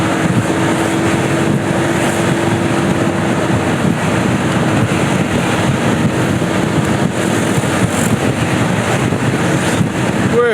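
Strong wind gusting west to east over open water at a regional Indonesian race, buffeting the microphone in a loud, continuous roar with a faint motor hum beneath it and no voices.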